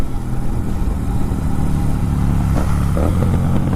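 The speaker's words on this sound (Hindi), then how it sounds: "अरे भाई साहब ये भाई एग्जॉस्ट जो है ना बहुत तगड़ा एग्जॉस्ट है गाइस" A Royal Enfield Continental GT650 motorcycle exhaust rumbles close by, a loud, steady low throb with a couple of brief revving swells near the end.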